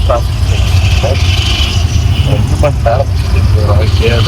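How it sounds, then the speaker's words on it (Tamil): Heavy morning road traffic makes a steady, loud low rumble of engines throughout, with voices talking intermittently over it. "செம்ம டிராஃபிக் காலையில்"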